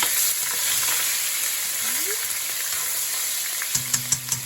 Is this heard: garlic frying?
yes